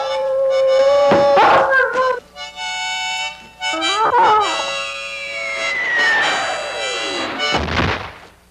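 A coyote howls in a Wild West setting, with long wavering cries that rise and fall over about eight seconds, loud and close, against sustained harmonica-like tones.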